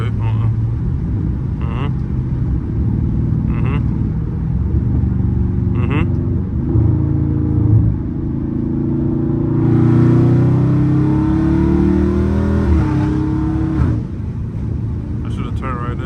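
A Scat Pack car's engine rumbling and then revving up on a downshift, a rising roar heard from inside the car, with someone talking over the steady engine drone.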